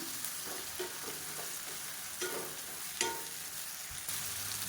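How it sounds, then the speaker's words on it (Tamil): Boiled raw banana pieces roast in oil in a pan: a steady close sizzle broken by occasional spatula scrapes and stirs, with no voices. "சேர்த்துட்டு இந்த எண்ணெயில் வந்து நல்லா ரோஸ்ட் ஆக்கிக்கலாம்."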